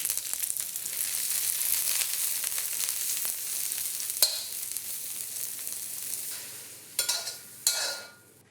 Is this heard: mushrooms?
yes